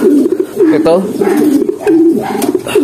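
Young pigeons cooing repeatedly in a loft, close and loud, a series of soft throaty coos in quick succession with brief pauses between them.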